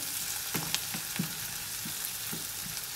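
Onion sautéing in a pan for cauliflower cheese, a steady high sizzle with a few soft spatula scrapes and taps spaced through it, close and moderately loud with no talking.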